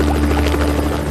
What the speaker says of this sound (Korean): 헬리콥터, 너 진짜 느리구나! 소리도 좀 어떻게 해봐! 어우, 시끄러워!